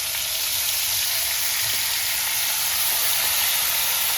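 Fish curry ingredients sizzle steadily in a pan over a low flame, a continuous bright frying hiss running unbroken and fairly loud from start to finish with no talk.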